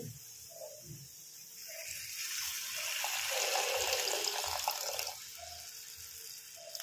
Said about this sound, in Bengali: দিয়ে দিচ্ছি এর মধ্যে জল।